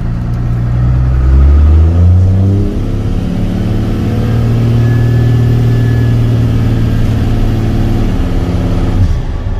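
Heard from inside the cab, a vehicle engine pulls a trailer, rising in pitch through a couple of gear changes and then holding a loud, steady drone at part throttle, with no talking.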